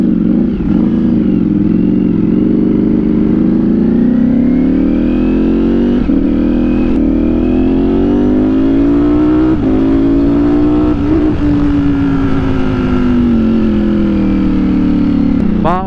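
A Ducati Streetfighter V4S motorcycle rides along an expressway, its engine droning loud and close with steady pitch sweeps as the rider rolls on and off the throttle, under a constant rush of wind.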